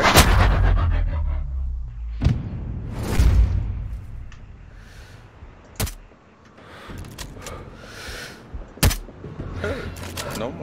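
Heavy mortar and artillery blasts in the video game Sniper Ghost Warrior Contracts 3. Several loud booming impacts land at irregular intervals over a rumbling battlefield background, with sharp cracks between them.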